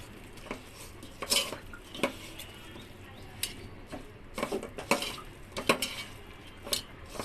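Raw jackfruit being mixed by hand with chili powder, salt and mustard oil in a metal bowl: scattered clinks and soft scraping knocks at an irregular rhythm, fairly close, with no talking.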